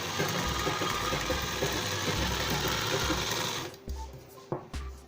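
A sewing machine stitches a midi dress in a steady, fast, continuous whir, then stops and gives a few short bursts and clicks near the end; nearby and fairly loud, with no talking.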